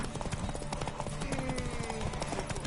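Horse hooves gallop in a rapid clip-clop rhythm in The Witcher 3: Wild Hunt, dense and steady throughout, mixed with background game noise and a voice.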